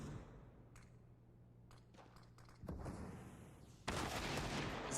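Desert Eagle pistol shots in a CS:GO match, heard as a few sharp, fairly distant cracks over quiet background hum, ending in a louder, noisy burst of action.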